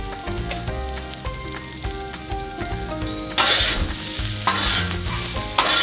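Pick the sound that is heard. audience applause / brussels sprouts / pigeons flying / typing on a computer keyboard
brussels sprouts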